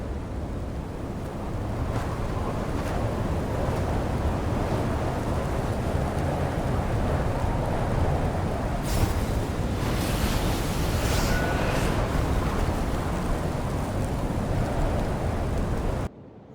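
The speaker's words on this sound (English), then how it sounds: "Let's get out of this storm." Stormy wind roars steadily in the Genshin Impact video game during a blizzard, a loud, unbroken howling rush with gusting surges that continue without pause before cutting off abruptly at the end.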